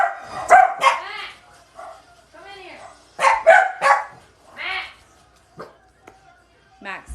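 A dog barks in a few sharp bursts in a busy household, close by, mixed in with people talking over and between the barks.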